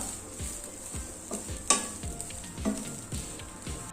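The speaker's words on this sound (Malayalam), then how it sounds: "നന്നായിട്ട് ഗോൾഡൻ ബ്രൗൺ ആവുന്ന വരെ ഒന്ന് വറുത്തെടുക്കാം" Steady dry sizzling of grated coconut roasting in a pan, with rhythmic scraping stirs every half second or so, close and continuous without any talk.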